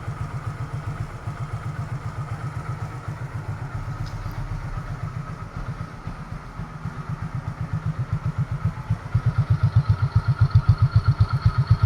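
A 2016 Hero Glamour motorcycle engine idles close by with a steady, even beat of rapid thumping pulses, growing slightly louder toward the end.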